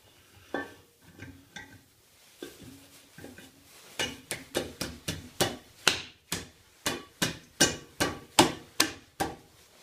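Hammer tapping a warped, skimmed exhaust manifold down onto tight studs of a 1940/41 John Deere B tractor: a long run of sharp, fairly quiet metallic taps, sparse at first, then steady and rhythmic for several seconds.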